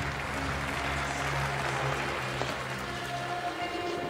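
An indoor athletics arena crowd applauds a high jump clearance with steady, dense clapping that fills the hall, and a commentator's voice sits faintly beneath it.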